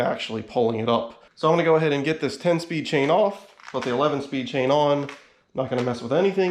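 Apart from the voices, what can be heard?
No everyday noises stand out.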